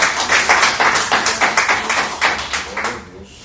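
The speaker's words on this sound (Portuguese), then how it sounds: "aplauda o Senhor mais uma vez" A church congregation claps together in a dense, steady burst of applause that fades slightly at the end, loud and close throughout.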